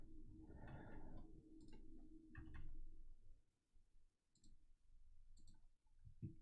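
A computer mouse is clicked rapidly in quick bursts of sharp, close ticks during an online card game, fairly quiet against a soft background hum, with pauses between clusters.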